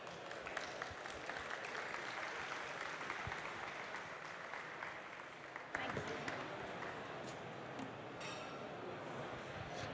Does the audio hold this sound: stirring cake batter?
no